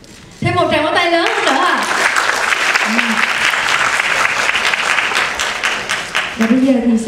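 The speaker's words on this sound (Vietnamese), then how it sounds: "Một tràng pháo tay lớn" Audience at a music video press launch breaks into loud, close applause after a brief opening, dense clapping sustained throughout while a host's voice talks over it at times.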